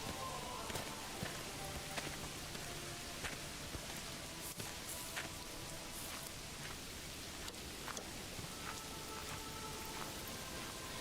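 Steady rainfall in the medieval city-building game Manor Lords, a dense even patter of drops with faint scattered ticks, constant and soft throughout.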